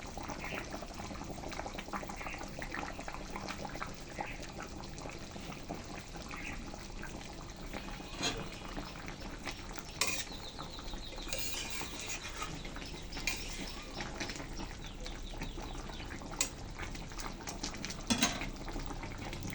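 Eggplant pieces cooking in a pan for a Japanese puti fish recipe, giving a steady close sizzle and wet crackle throughout, with no talk.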